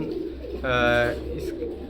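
A single soft pigeon coo rises out of a low, steady background hum, lasting under half a second.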